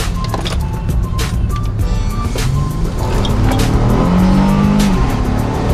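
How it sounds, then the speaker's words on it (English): Inside a Honda Pilot making a U-turn, the engine revs loud and close, climbing in pitch as VTEC kicks in and the SUV accelerates. "All the VTEC kicked in, baby."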